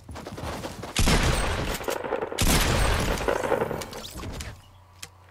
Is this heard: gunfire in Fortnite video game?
yes